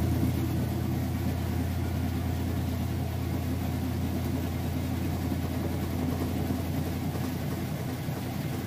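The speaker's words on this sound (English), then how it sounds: "here we go into that final spin cycle now" A Kenmore washing machine runs its final spin cycle, a smooth, steady low motor rumble and hum that holds constant from start to finish without voices.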